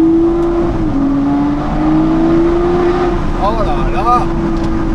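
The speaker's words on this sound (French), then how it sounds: "Qu'est-ce que c'est beau ce son de V12, c'est vraiment le son signature Aston Martin celui-là pour moi." An Aston Martin V12 engine holds a loud, close, steady drone, with a short rise in revs near the end and an excited exclamation over it.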